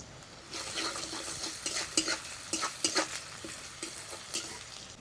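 Chopped onion and spice paste frying in oil, a near, crackling sizzle with repeated scrapes and knocks of a spoon against the pan, no voices.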